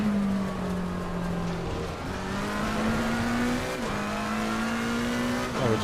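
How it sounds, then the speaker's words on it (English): McLaren 720S GT3 race car engine in Assetto Corsa Competizione, a loud steady drone that holds pitch, dips briefly at about two seconds and again near four, then climbs under load as the car accelerates, heard alone without talk. "McLaren 720S GT3. Sounds very nice."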